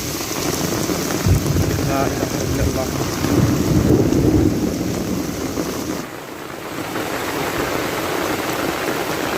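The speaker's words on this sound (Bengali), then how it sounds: "বিশাল বিশাল বৃষ্টি বজ্রপাত" A village thunderstorm with heavy rain: a dense, loud roar of rain pours down steadily while low thunder rumbles swell and fade underneath.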